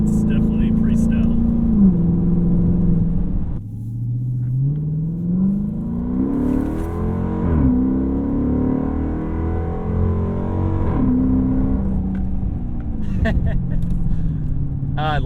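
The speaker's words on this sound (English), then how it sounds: "That's the classic American car sound right there." An old Dodge Charger Pursuit police car's engine revs up and accelerates with a deep, rising growl that climbs and falls in pitch several times, loud and close throughout.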